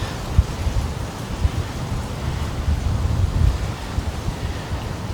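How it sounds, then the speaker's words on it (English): Strong wind roars and buffets the microphone at the top of a fire tower in a wooded state park, a steady loud rumbling gust with no talk. "I feel it blowing in the wind."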